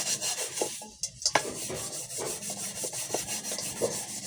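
Harsh, uneven scraping and rubbing of a metal cooking pot, repeated in irregular strokes with a few sharper knocks, close by.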